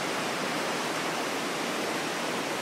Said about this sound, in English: So this is the river that runs into Lake Spiez.